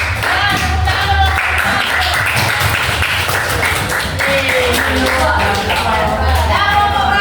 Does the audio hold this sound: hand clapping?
yes